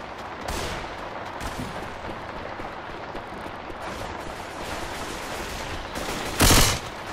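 Gunfire rattles through a Left 4 Dead 2 firefight in heavy rain, a steady wash of rapid shots under the downpour, with one louder close blast near the end.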